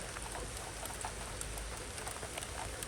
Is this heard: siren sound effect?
no